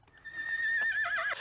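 A horse in the 1980 comedy film Airplane! gives a single drawn-out whinny that rises and then wavers, clear against a quiet soundtrack.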